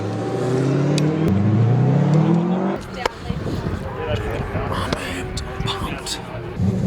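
A V8 Supercar's engine climbs through rising revs for nearly three seconds during a ride-along, then gives way to a rougher roar of road and wind noise with scattered clicks, loud and close as if from inside the car.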